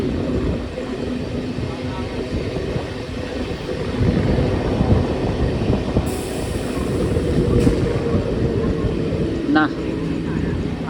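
A Katowa–Sealdah local train rumbles along the tracks with steady rolling noise that swells and fades slightly, a brief high squeal near the end, voices faintly present.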